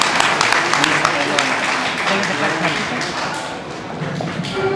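An audience at a Greek commemorative event breaks into steady, dense applause, many hands clapping close and loud throughout with no pause.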